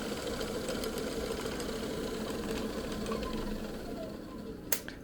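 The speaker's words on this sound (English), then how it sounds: "So if we turn on the lathe, we can see that the belt is giving a nice even spin to our encoder." Old Craftsman lathe running steadily, its belt spinning an encoder, giving a faint continuous mechanical hum and whir with a brief click near the end.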